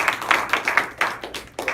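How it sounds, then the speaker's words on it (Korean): Church audience clapping for a speaker, a brief burst of a few hands making uneven, close, sharp claps that fade after under two seconds. "우리 박수!"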